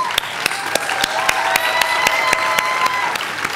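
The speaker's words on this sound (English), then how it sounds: "Let's give a huge round of applause to these young eagles." An audience at a school day event claps in a steady, even beat of sharp, evenly spaced claps. The clapping is moderately loud and continues throughout.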